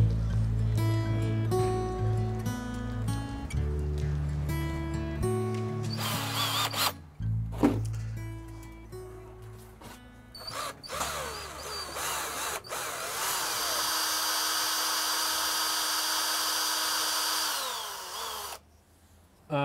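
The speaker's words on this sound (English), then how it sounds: "I need to drill into some wood." A power drill bores into a piece of Amsterdam wood for a wooden rattle, whirring in steady close bursts with pauses, then a long sustained high-pitched drilling run near the end.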